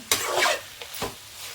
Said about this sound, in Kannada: ಇನ್ನು ಸ್ವಲ್ಪ ಫ್ರೈ ಆಗಲಿ